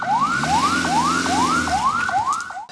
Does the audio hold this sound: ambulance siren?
yes